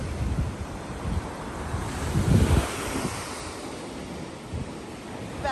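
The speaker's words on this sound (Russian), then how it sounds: "тут море, шум, ветер, сори за звук" Sea waves surge along a Montenegro resort shore while wind buffets the microphone, a continuous rough roar with a brief louder swell in the middle and no voices.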